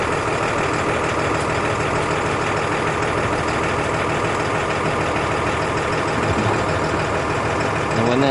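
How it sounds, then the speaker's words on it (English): A pickup truck engine idles loudly and steadily at a cattle chopper yard in the East Kimberley, Western Australia, a constant close rumble with a faint voice underneath. "Back in the bull catch and pickup truck in to get a load on it too."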